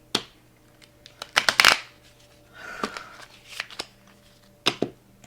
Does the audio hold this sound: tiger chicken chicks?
no